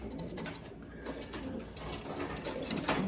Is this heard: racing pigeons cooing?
yes